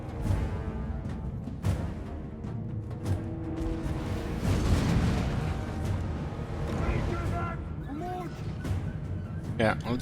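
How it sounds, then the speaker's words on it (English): Cannon fire from a Dwarf army in the strategy game Total War: Warhammer. Heavy repeated booms over a dense battle din, steady and loud throughout, with a sharp blast near the end. "I love the sound of cannons."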